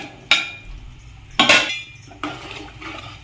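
Prepared boiled eggs dropped into a thick masala gravy in a pan: three distinct soft wet plops with light utensil clinks, close and fairly loud, with quiet gaps between, and no talk.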